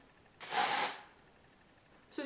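Batiste dry shampoo for dark hair sprays from an aerosol can in one close, hissing burst lasting about half a second, followed by quiet and the start of another spray.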